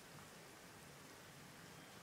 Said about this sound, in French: Et la pluie tombe, encore.